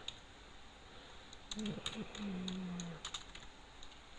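Soft, irregular clicks of keys on a computer keyboard as a disk partition command is typed, close but quiet, with a brief tonal hum partway through.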